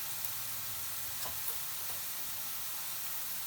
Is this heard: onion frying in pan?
yes